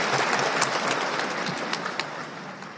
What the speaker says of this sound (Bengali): জোরে হাততালি দিয়ে অভিনন্দন জানাচ্ছি